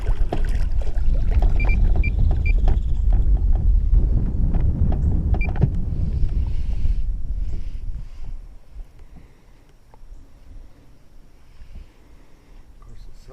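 Low, steady engine drone of a boat motor running under scattered talk and clicks, then easing back quieter toward the end.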